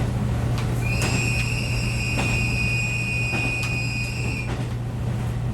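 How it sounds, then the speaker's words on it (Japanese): A Hokkaido train sounds a sustained multi-tone horn for several seconds over the steady rumble of the carriage, heard from on board on a rural line with unguarded level crossings. "警笛を何度も鳴らしますね。"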